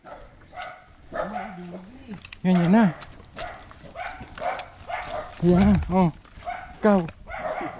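A dog barks in a few short bursts outdoors on a slippery hillside farm path, over and between people talking nearby.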